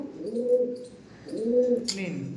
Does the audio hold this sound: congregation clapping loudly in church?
no